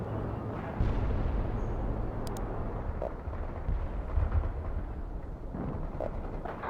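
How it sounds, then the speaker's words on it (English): Artillery strike explosions in the World in Conflict game, a dense rolling rumble of blasts and low booms over several seconds, with a few sharper cracks and a short high beep, no voices. "Artillery strike was on the mark."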